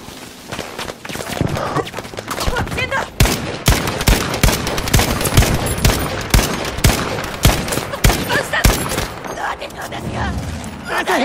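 Sniper rifle gunfire in an online multiplayer video game, loud sharp shots repeating at irregular intervals over continuous in-game action noise and clatter.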